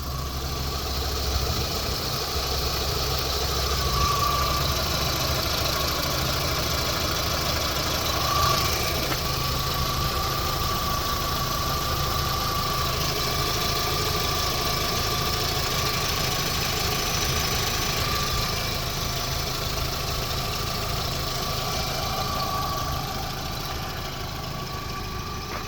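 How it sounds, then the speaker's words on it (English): A 2001 Volkswagen Jetta sedan's engine idles steadily, heard up close as a continuous, even mechanical hum with a faint knocking texture and occasional light whine, no voices over it. "but I'll let you listen to the motor."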